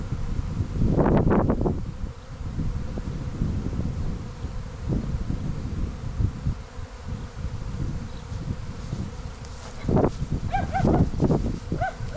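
A swarm of honey bees buzzes around a hive in a steady, dense drone, with louder close fly-bys at moments and people talking intermittently nearby.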